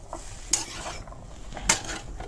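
Taro stem stir fry gets stirred in a pan, with two sharp metal spatula clinks against the pan over a soft, low sizzle and no talking.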